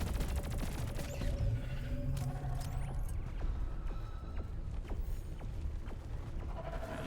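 A sentry gun turret in a video game fires rapid, steady bursts of clattering shots with mechanical clicks, continuous and fairly close throughout.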